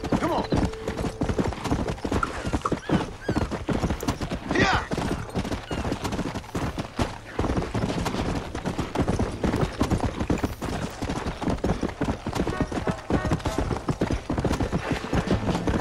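Horse hooves clip-clop in steady rhythm in the Western video game Red Dead Redemption, with scattered gunfire cracks and an occasional whinny, while someone talks over the gameplay.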